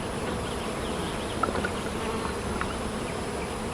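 Honey bees buzz steadily and close during an end-of-June hive inspection as frames are pulled, a dense continuous drone with a few louder passes near the microphone.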